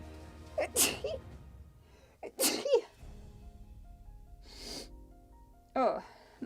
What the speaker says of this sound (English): Oh, no third sneeze.